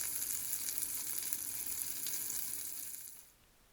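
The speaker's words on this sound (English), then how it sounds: "So you just want to continue frying them up until they're browned on both sides." Pancakes sizzle and crackle steadily in a hot pan, close by, with a bright hiss that fades away at the end.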